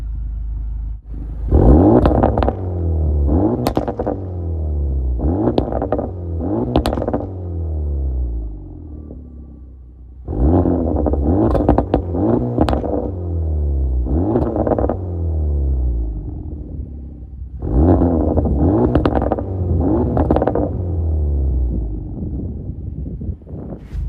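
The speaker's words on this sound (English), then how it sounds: "Pops and bangs, really where you notice the difference." Bursts of loud engine revving from an Acura Integra Type S with an MBRP exhaust in sport mode, valves open, repeat in three clusters, each trailing off with rumbling crackles and pops, close by and without speech.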